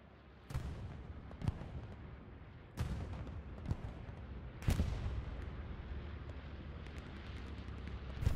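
Bombing-run explosions in a video game tournament match, three heavy booming blasts that each leave a long rumbling tail, fairly loud and dense, with no voices over them.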